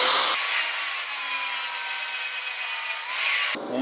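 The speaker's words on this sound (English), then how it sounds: "Little tiny high spot right there where that weld is. I just want to grind that down" A grinder steadily grinding down a small weld high spot on a metal motorcycle kickstand jig, a loud, continuous whine that holds for several seconds and then cuts off.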